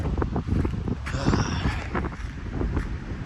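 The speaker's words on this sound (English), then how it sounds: "it's a very windy day today." Wind gusting hard across a microphone outdoors on a very windy day, a continuous rough roar with surging bursts throughout.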